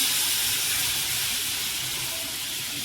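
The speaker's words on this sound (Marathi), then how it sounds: "थोडंसं पाणी आपण इकडे उकळी काढून घेऊया" Water heats to a boil in a pot on a gas stove in a home kitchen, giving a steady close hiss and rumble with no talking.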